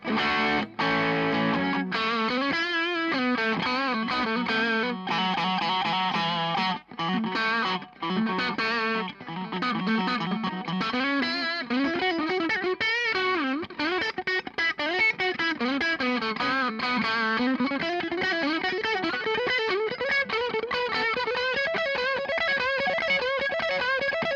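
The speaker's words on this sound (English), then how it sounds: "Now let's muck about with some distortion." A Michael Kelly 1957 electric guitar plays through distortion on both pickups, a continuous riff with shifting notes, loud and saturated throughout with no voices.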